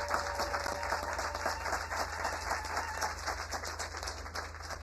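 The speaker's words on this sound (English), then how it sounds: "African-American applause and thank you, my brother." Steady, dense clapping from an audience at a community meeting, continuous for several seconds at even volume over a low background hum.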